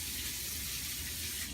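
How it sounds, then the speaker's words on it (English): Tap water runs steadily onto a Norwex EnviroCloth held under it at a sink, a continuous close splashing gush without talk. "I'm just going to get the EnviroCloth wet."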